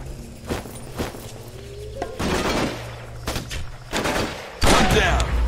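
Gunfire in the video game Raven Squad comes as sharp shots and short bursts mixed with footsteps and heavy impacts, ending in a louder close burst.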